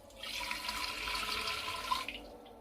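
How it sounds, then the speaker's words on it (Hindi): A glass of water poured into a clay pot, heard as a steady splashing, gurgling stream up close for over two seconds, with no talk. "तो इसके लिए सबसे पहले आपने घड़े में डालना है 1 गिलास पानी।"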